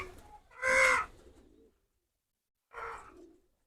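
Pigeons shut inside a single crowded room give two short calls, a louder one first and a softer one about two seconds later, with quiet between them.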